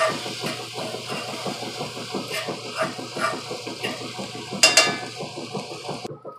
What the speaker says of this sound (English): mashed garlic cloves, and I'm throwing in some pretty big onions, and this is just one onion, and I'm just going to cook these